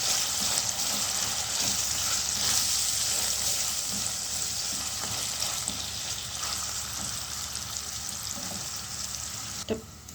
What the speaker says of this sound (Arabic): هننزل بالفلفل كده بقى مع الصلصه